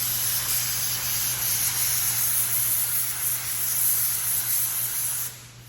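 A paint spray gun set to a full fan pattern releases a loud, steady, close hiss of atomized paint for over five seconds, then cuts off abruptly near the end.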